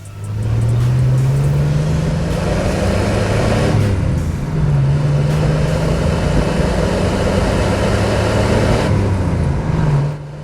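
A 1991 Dodge Dakota 4x4 with a 3.9L V6 and five-speed manual pulls away on a test drive, its engine droning loud and close as revs climb and dip through gear changes.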